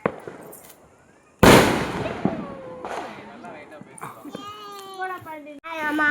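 A Diwali firecracker goes off with one sudden loud bang and a crackling tail, while children's voices chatter and call out around it.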